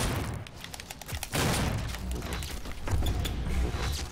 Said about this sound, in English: Oh, I see explosions coming this way.